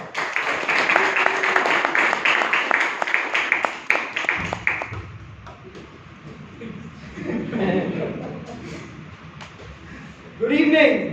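Applause at a Toastmasters club meeting in Bangalore: dense clapping mixed with some chuckles from the audience for the first four seconds, then it fades into quieter room noise, with a voice starting to speak near the end.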